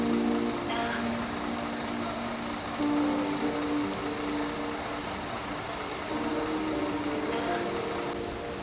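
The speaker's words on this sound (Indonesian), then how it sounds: "Kita masih diguyur hujan guys" Rain falls at night at Batoh bus terminal in Banda Aceh, a steady broadband hiss filling the scene with faint traffic and bus rumble mixed underneath, no speech.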